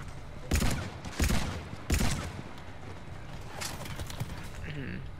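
Weapon fire from Mass Effect 3 multiplayer combat, three sharp loud bursts in the first two seconds followed by fainter scattered shots, with players talking over the game audio.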